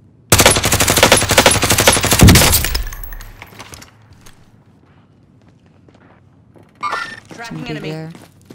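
Loud, close automatic gunfire in the Warzone video game rattles in one sustained burst of a few seconds, then fades; a voice speaks briefly afterward.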